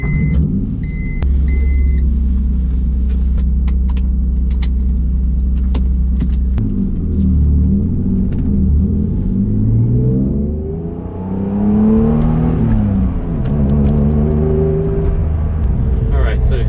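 A 1991 Acura NSX drives off, its engine idling in a low steady rumble before revving up through rising and falling gear pulls, close and loud from inside the car.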